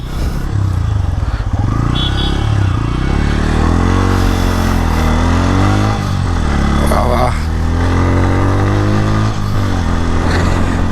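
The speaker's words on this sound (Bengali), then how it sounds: "বাইকটা তো সুন্দর লাগতেছে চালাতে" A motorcycle ridden on the road toward a rural farm, its engine droning loud and steady with shifting pitch as it speeds up and eases off, under wind rush and the rider's intermittent talk.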